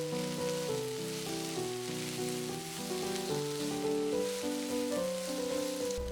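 Purple okra and mushrooms stir-frying in a hot pan, giving a constant hissing sizzle that runs the whole time beneath louder background music.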